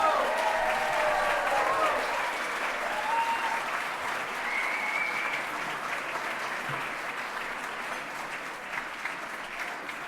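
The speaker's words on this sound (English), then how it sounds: "All of you can give them a nice big round of applause." An audience at an honors presentation claps warmly for students, a full steady round of applause that slowly eases off, with a few voices murmuring underneath.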